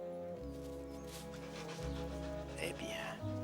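A small pet dog pants and whimpers softly beneath a sustained low musical drone, with faint higher squeaks rising near the end.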